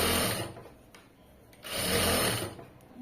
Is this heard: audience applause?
no